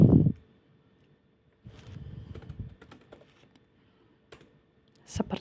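Typing on a computer keyboard while working in Excel: a short knock, then scattered bursts of close key clicks with pauses between, ending in a sharper final keystroke, quiet and dry.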